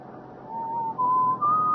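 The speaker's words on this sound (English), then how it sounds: "Were you whistling just now?" A person whistling in a 1977 CBS Radio Mystery Theater drama, a thin wavering tone of rising held notes, close and moderately loud over a low hum.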